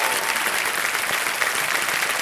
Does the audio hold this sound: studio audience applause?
yes